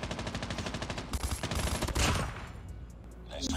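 Rapid automatic gunfire in the mobile shooter game Call of Duty Mobile, a dense loud burst of shots for about two seconds that then fades out, with a few faint sounds near the end.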